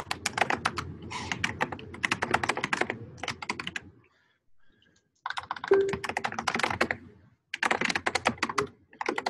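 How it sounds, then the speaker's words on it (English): Loud, rapid typing on a computer keyboard from an unmuted participant on an online meeting call, dense clattering keystrokes in several bursts separated by brief pauses, close to the microphone and with no talking. "So we've got somebody who's not on mute who's typing pretty loudly."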